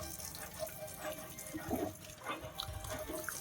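Water runs from a green corporation water pump in a city street, a soft steady flow with faint splashing and background street ambience, fairly quiet and without speech.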